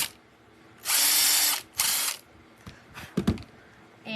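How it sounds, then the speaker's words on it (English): A small power drill bores a hole into a resin keychain in two short bursts, close and loud, followed by faint handling clicks. "I'm going to drill another hole within the R."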